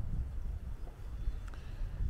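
Wind buffets the microphone on a cloudy farm in Andalusia, Spain, in low, uneven gusts, a steady rumbling roar with no one speaking.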